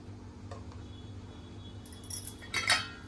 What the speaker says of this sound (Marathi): आता टीन आपण कढईमध्ये ठेवूया